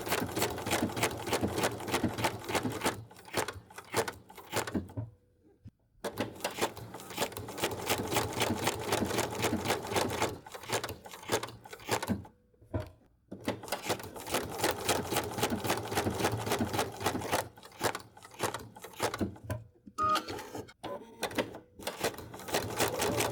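A sewing machine stitching wool appliqué runs in fast mechanical bursts, close and steady, stopping briefly a few times before starting again.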